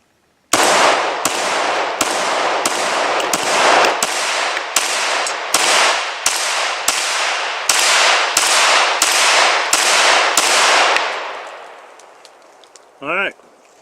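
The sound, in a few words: Glock pistol gunshots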